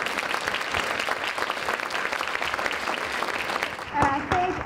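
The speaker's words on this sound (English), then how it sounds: "Let's give them all another round of applause." Audience at a Georgia education forum gives the middle school representatives another round of applause, a continuous, moderately loud patter of many hands clapping that fades near the end as a voice begins speaking.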